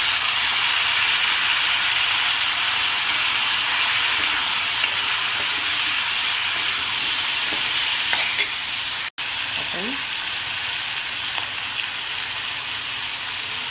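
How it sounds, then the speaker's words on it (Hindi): Onion and tomato dropped into hot oil, producing a loud, dense, continuous sizzle that fills the whole stretch close up, with a brief dropout partway through. "अब हम इसमें प्याज और टमाटर डालेंगे।"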